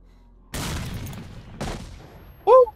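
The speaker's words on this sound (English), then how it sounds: "Okay, it does explode." Two heavy blasts go off in a row during a S.T.A.L.K.E.R. Shadow of Chernobyl firefight, each a sharp burst trailing into rumbling decay, followed by a short loud electronic tone.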